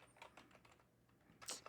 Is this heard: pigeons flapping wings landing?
no